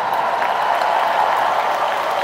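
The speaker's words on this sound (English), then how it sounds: "Give Tim a round of applause" Convention audience applauding in a large Las Vegas hall, a steady wash of clapping that holds evenly across the short stretch without any voices.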